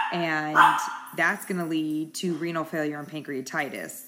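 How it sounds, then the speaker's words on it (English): A small dog barks in the background, several short yips scattered through continuous close speech from a lecturer discussing medical topics. "Excuse my dog barking in the background."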